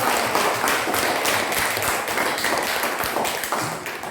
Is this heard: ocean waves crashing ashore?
no